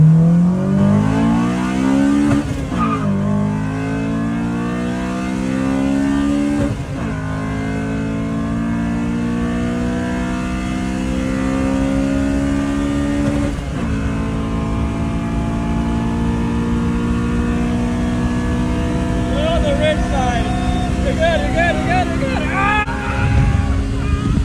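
A street-tuned Honda Integra LS engine revs hard in first gear, its pitch climbing steadily toward a 9,000 rpm wail through several long pulls with brief dips between. It is loud and close, and a voice speaks over it.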